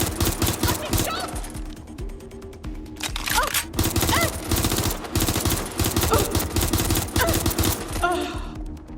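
Heavy gunfire rattles in Watch Dogs Legion as enemies shoot at the player, with dense rapid bursts and automatic fire continuing loud and close throughout, with shouting voices underneath.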